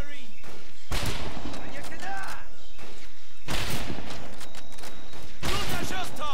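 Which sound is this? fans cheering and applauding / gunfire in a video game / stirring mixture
gunfire in a video game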